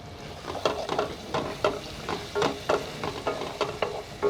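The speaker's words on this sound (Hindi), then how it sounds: "तो हमारे प्याज और टमाटर अच्छी तरह से फ्राई हो चुके हैं।" Onions and tomatoes frying in a pan with green chillies, whole garlic cloves and salt, with a steady sizzle broken by repeated scraping stirs at an irregular rhythm, close and fairly quiet, with no talk.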